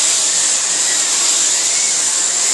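A Bosch GS-50 PowerAnimal vacuum cleaner running on maximum power gives a steady, loud, unbroken whine-and-rush of motor and airflow, close by and alone.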